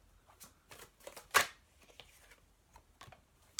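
Tarot love cards being shuffled by hand, a run of soft papery riffles and slaps with one louder flurry in the middle, close and otherwise quiet.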